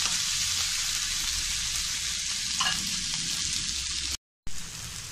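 Tomatoes softening in a hot pan for salsa sizzle and crackle steadily and continuously at close range. A brief gap of silence comes near the end.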